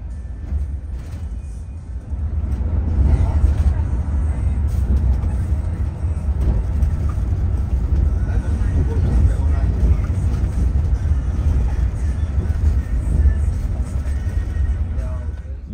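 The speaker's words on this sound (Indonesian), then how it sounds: "bus ini enteng sekali ketika nanjak-nanjak" A Hino RM bus climbs uphill on the road from Semarang to Magelang, its engine giving a sustained, heavy low-frequency roar that swells after a quiet start. Someone talks over the engine throughout.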